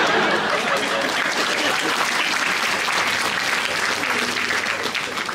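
Applause from a lecture audience on education and careers fills the room as a loud, steady wash of many hands clapping without letup.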